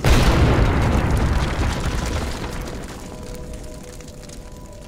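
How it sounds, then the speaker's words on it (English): Deafening explosion sound effect, a loud booming blast with a long rumbling roar that slowly fades away, heard alone. "A deafening explosion rings in his ears."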